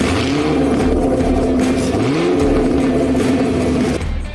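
A Chevrolet Camaro SS engine revs and rumbles loudly through a throaty exhaust, pitch rising briefly midway before settling, then cutting off near the end.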